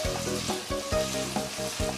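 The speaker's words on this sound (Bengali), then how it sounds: "মিডিয়াম ফ্লেমে আলুগুলো ভেজে নিচ্ছি" Potato pieces, three medium potatoes cut small, fry in hot oil over a medium flame for a Bengali ghugni, giving a loud, steady close sizzle broken by a few stirring knocks, with no talk.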